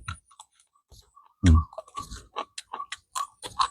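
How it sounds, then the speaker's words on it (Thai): Close, loud crunchy bites and chewing of fresh plant shoots, one sharp crunch followed by a run of smaller crisp chewing sounds. "กัดดังเลย"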